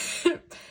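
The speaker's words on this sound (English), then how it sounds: "excuse me, I'll cough." A single close, fairly loud cough bursts out briefly, then trails into a short pause before quiet room tone resumes.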